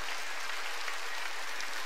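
Congregation clapping at a Korean church sermon, a steady broadband patter of many hands held at an even, fairly quiet level for the whole stretch, with no voices over it.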